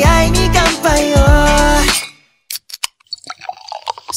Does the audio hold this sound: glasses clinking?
yes